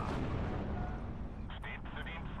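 A Grille self-propelled gun firing in Steel Division 2, a deep heavy boom opening the clip and rumbling on, with sharper metallic battle noises appearing near the end.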